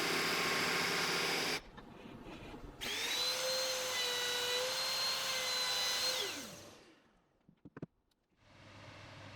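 A power drill whirs at high speed boring cable holes in wood for a media console, pauses, then spins again for several seconds before winding down, followed by a few faint knocks.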